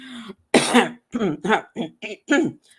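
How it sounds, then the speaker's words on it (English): A series of harsh, bursty coughs, one strong hack followed by several shorter ones in quick succession, close to the mic and fairly loud. "I just can't stop coughing"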